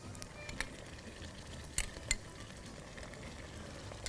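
Ground ginger and garlic paste fries with onions in a pan, a low continuous sizzle punctuated by a few sharp clinks of a spoon against the pan.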